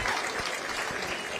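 Applause for two party leaders at a Kenyan political gathering, a steady wash of clapping throughout with a few sharper individual claps standing out.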